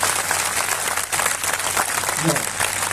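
Loud, sustained applause from a church congregation at a Christian fellowship gathering, steady clapping filling the whole stretch without a break.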